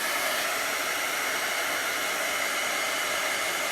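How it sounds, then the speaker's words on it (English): A hair dryer blows on chalk paste spread over a chalkboard, producing a loud, continuous, even roar of rushing air up close that holds steady with no pauses. "let me blow it dry"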